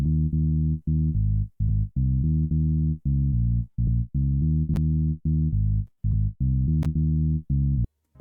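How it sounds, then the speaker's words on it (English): Electric bass guitar sample eBass08 from the Purity plugin in FL Studio plays a choppy afrobeat bassline of short, punchy repeated notes with brief gaps, loud and alone. "On bass guitar I added two types of bass"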